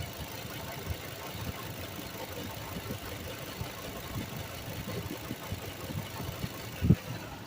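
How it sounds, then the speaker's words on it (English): A 2006 Ford F450's V10 engine idles with a low, steady rumble and faint knocking, heard close and unbroken, with a brief thump near the end. "just an idle, it just sounds like a regular old V8"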